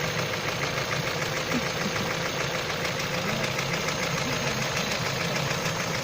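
Vauxhall Astra 1.6 engine held at raised revs with Seafoam being run through it, a steady, loud, continuous drone with a slight knocking texture and no talk.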